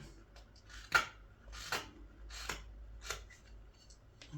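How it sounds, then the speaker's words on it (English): A small knife cuts a green wood spoon blank to length in four or five short, close scraping strokes spaced about a second apart, quiet between cuts, with no talking. "let's take this smaller knife to just to cut this to length"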